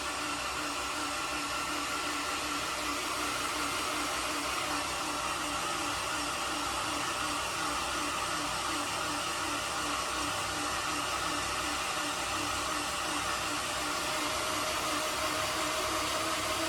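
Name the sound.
built Honda F24 engine cranking without spark plugs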